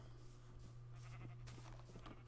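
Sheep bleating in Minecraft, a couple of soft, wavering game-animal bleats over quiet background ambience, fairly faint and without talk.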